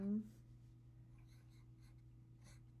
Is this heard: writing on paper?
yes